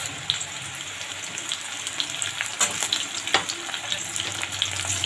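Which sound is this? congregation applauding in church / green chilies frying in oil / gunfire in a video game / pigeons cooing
green chilies frying in oil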